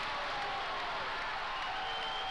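A basketball crowd at a boys' substate high school game between Concordia and McPherson reacts to a foul call with a sustained, steady roar of voices and scattered applause, loud and continuous throughout.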